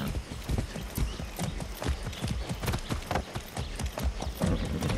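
Rapid hoofbeats of a galloping horse in the video game Far Cry 6, a steady thudding rhythm close by, with a brief whinny partway through.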